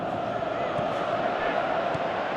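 Virtual stadium crowd noise from a Pro Evolution Soccer 2017 match, a steady broad roar of massed fans sustained throughout, loud and close with faint swells.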